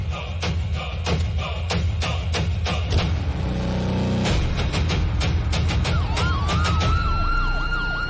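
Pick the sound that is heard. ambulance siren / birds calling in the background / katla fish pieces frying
ambulance siren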